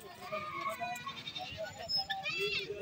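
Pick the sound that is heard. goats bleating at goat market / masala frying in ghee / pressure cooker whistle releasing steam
goats bleating at goat market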